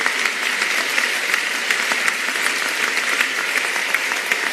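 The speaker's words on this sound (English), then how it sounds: "First, a warm round of applause for these first insights of the Dalai Lama." An audience at a Dalai Lama talk on universal human values and education gives steady, dense applause from start to finish, with no voices over it.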